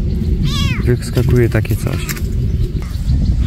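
A cat that appeared from roadside bushes during a woodland walk gives a short rising-and-falling meow close by, partly under a woman's speech and outdoor background noise.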